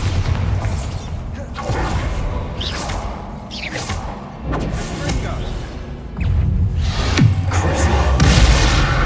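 The Bombarda explosive spell in the Hogwarts Legacy video game, loud booming blasts with swooshing magic and thuds amid combat noise, joined by shouted voices.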